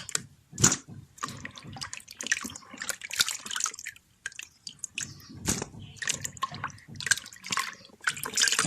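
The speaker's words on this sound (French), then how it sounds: "nous voulons maintenant mettre de l'eau propre pour les nettoyer" Clean water poured over soaked leaves for rinsing while preparing a Congolese dish, heard as close splashing, dripping and squishing in uneven bursts with short pauses, no speech.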